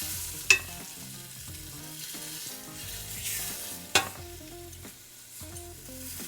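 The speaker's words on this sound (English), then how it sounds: "We're just gonna sear the top side and the bottom side." Short ribs searing in a hot pan give a steady, close sizzle and crackle, with a couple of sharp clinks or taps against the pan.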